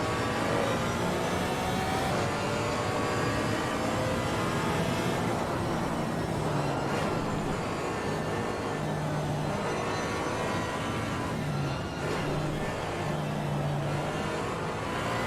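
GT4 race cars, a BMW among them, lapping the Nurburgring in a racing video game, with steady loud engine drone and rising and falling revs as gears change, dense and continuous throughout with no talk.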